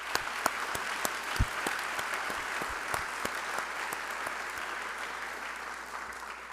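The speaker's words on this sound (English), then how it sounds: "Let's give all these folks a round of applause." Audience applause fills an auditorium after an education awards celebration, steady dense clapping from a sizable crowd with a few sharper close claps standing out, continuous for several seconds with no speech.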